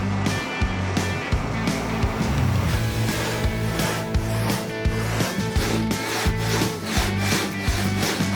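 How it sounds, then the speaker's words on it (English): Rhythmic back-and-forth rasp of a large two-man saw hollowing out the middle of a wooden slab, strokes steady and close, no talking. "So we're just having to hollow out the middle with the 2-man saw."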